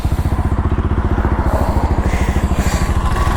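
A motorcycle engine idles close by, its exhaust putting out a rapid, loud, evenly pulsing burble that stays steady throughout.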